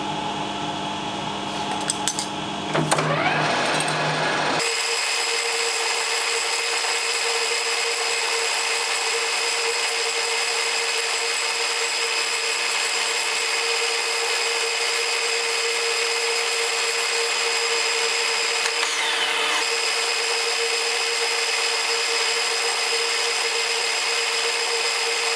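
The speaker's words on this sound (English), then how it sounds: "I'll just cut them out on the lathe now" A metal lathe turns aluminium spacers for a Honda TLR200 Reflex motorcycle project: a few seconds of clattering start-up noise give way to a steady, close, tonal whine that runs on with slight shifts in pitch.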